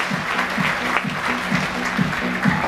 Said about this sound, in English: So give them all a big round of applause.